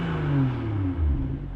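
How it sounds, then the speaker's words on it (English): A 2019 BMW 3 Series engine hums steadily from inside the cabin while driving, with a smooth low drone whose pitch slides slightly as the car moves along. "the actual engine sound sounds pretty good"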